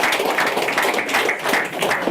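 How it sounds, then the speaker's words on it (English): An audience claps steadily through a comedy set, a dense and fairly loud patter of many hands that stays even from start to finish, with no talking over it. "You guys are all young, so I get claps here"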